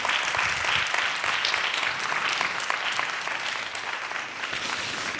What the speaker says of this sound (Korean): 우리 다시 한번 스태프들에게 한번 격려의 박수 부탁해요.